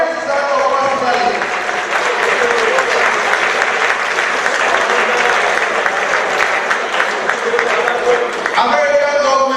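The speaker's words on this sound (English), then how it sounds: "Please, a round of applause for him." A crowd applauds at a HeritageTV London anniversary celebration, loud continuous clapping lasting nearly ten seconds, with some voices mixed in.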